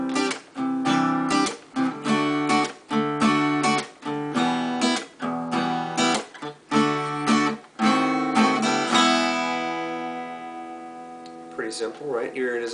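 Rhythmic strummed chords work through the pre-chorus progression of a song, choppy bursts giving way to a longer ringing chord that fades near the end, played alone.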